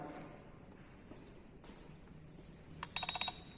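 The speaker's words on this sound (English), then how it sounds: "This buzzer indicates that the bag will be acting now as a smart bag." Near the end, a smart bag's electronic buzzer sounds in a quick burst of short, sharp pulses after a mostly quiet stretch with faint handling noise.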